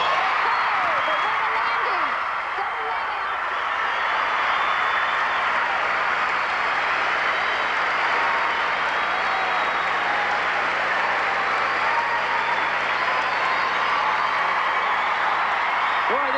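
A gymnastics arena crowd at a 1991 mixed pairs international meet applauds and cheers in a sustained, loud wash of clapping and shouts, with a commentator's voice running underneath.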